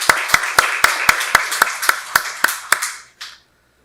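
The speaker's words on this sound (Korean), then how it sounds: "박수로 하나님께 영광 돌리겠습니다" A church congregation at a Sunday worship service claps in unison, about a dozen sharp, evenly spaced claps that stop with a final softer burst, loud and close, with no talking.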